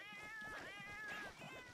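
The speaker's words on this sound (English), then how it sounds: "Cats." A cat meows repeatedly in drawn-out, wavering cries, fairly clear and close, with no talking over it.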